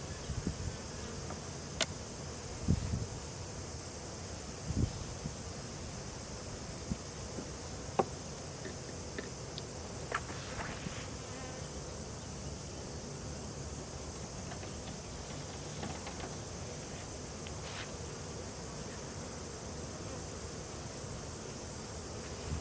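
Honeybees humming around an open hive during a fall inspection in October, a steady faint drone of many insects with a few soft knocks and rustles over it, and no voices.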